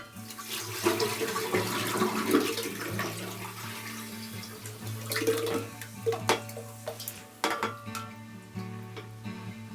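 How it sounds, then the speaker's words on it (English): Water carrying suspended activated carbon is poured into a carbon filter unit, giving a steady close splashing pour with gurgles and a few sharp clinks of a container, with no talking. "then dump the carbon into the filter unit"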